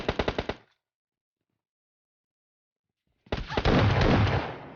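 Two bursts of rapid automatic gunfire in PUBG Mobile Lite, a short rattling volley followed by about three seconds of silence, then a longer, louder sustained burst of shots.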